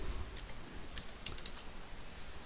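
Rapid clatter of keys on a computer keyboard as a short captcha is typed in, close and steady for a couple of seconds with no talk.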